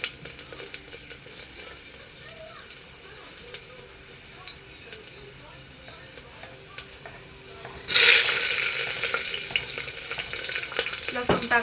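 Garlic, cumin, mustard seeds and chilies hit hot oil for a khichdi tempering, with light ticking and stirring sounds that erupt into a loud, close, steady sizzle partway through and continue to the end.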